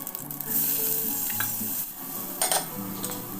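Chopped onion dropped into hot oil already crackling with mustard seeds and cumin, giving a steady close sizzle and fry with a few stirring scrapes and light utensil clinks throughout.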